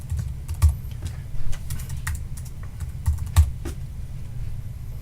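Keys tapped on a computer keyboard while entering a vehicle search, a few scattered clicks and short bursts close by, with no one speaking.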